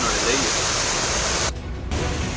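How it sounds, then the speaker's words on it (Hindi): Floodwater spills over the top of the Ranjit Sagar dam in Jamnagar during heavy rain, a loud, dense and unbroken rushing roar that briefly thins before surging back. "ज्यादा पानी होने की वजह से डैम के ऊपर से पानी बह रहा।"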